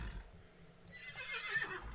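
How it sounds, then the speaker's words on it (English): A horse in the video game Seeds of Chaos lets out a loud, wavering whinny that rises in the second half, with soft low rumbling before it and no talk over it. "Very loud horse"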